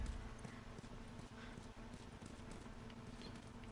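Horse hooves clip-clopping in a steady walking rhythm, quiet and continuous, with a low background hum, from the video game The Last of Us Remastered.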